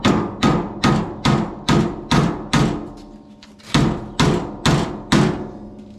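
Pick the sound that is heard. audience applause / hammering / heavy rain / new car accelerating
hammering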